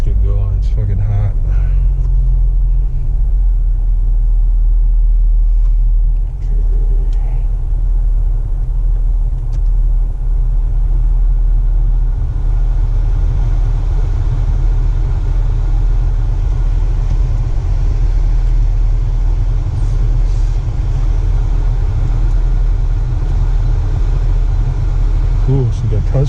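An Infiniti Q60 3.0T pulls away and cruises, its low engine and road rumble droning steadily close up from inside the cabin.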